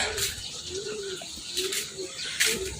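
Pigeons at a home loft with newly hatched squabs cooing softly in repeated low phrases, close and moderately loud, with faint background chatter and chirps.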